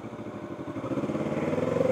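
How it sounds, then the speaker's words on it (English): Motorcycle riding along a road, a close engine with a throbbing pulse that quickens and rises in pitch as it accelerates, loud and alone. "Faster than my motorcycle."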